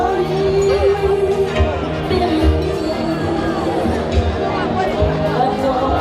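A street crowd in Old Harbour Bay, Jamaica, celebrates a JLP election win along Terminal Road, with dense, steady cheering and overlapping chatter that carries close and loud through the whole stretch.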